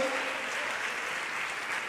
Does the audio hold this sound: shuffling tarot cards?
no